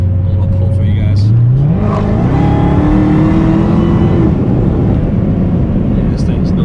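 Chrysler Hellcat V8 pulling hard from low revs, a loud roar rising steadily in pitch as it accelerates, then holding a high drone, heard close from inside the car.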